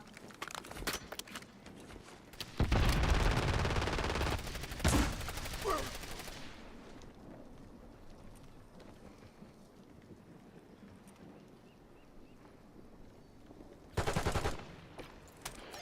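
Bursts of automatic gunfire crackle through a Call of Duty Warzone match in Verdansk: scattered shots at first, then a loud sustained volley, a quieter stretch with wind and rain-like noise, and a final sharp burst near the end.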